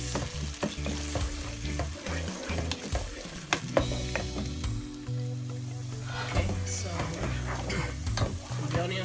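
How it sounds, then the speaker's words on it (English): Onions frying in a pot for Nigerian party jollof rice give a steady, close sizzle with scraping stir strokes and a few clinks, over a low musical backing. "With that melting off, I'll add my onions. Let it turn golden brown a bit."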